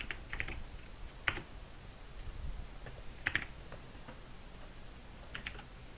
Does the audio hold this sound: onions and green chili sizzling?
no